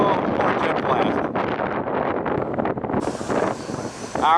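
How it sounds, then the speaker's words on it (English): Jet blast from a Southwest 737 airliner roars past on the ground, a loud broad rushing wind that surges and buffets, with a sharper hiss rising near the end. "Oh, more jet blast."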